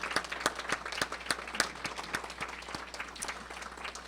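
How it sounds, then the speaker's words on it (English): Audience applause for candidates at a federal by-election dialogue in Cloverdale-Langley City, a moderate room of scattered, uneven claps with distinct individual hand strikes standing out, steady throughout without talk. "let's have a round of applause for all of our candidates"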